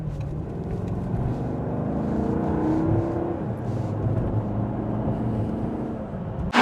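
A Maserati GranTurismo S engine drones steadily from inside the car while driving on the road, building gently as it accelerates, with no talk over it.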